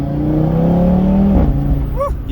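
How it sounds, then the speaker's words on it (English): Audi RS3 engine heard up close as a loud, rising rev that drops off sharply near the end, followed by a brief higher whine. "the sound of this car"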